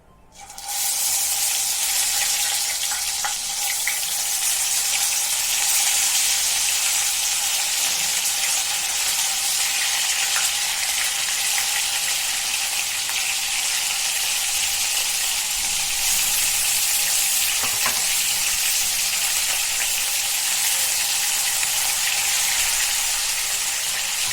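Eggplant pieces frying in hot oil, with a steady, loud, continuous sizzle that holds evenly throughout and carries no talking.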